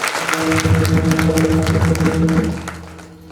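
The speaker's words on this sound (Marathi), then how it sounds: "त्यांच्याकरता एकदा जोरदार टाळ्या वाजवा" Audience clapping at a Shiv Naam Saptah religious gathering, steady applause lasting about three seconds over a sustained musical drone, then tailing off.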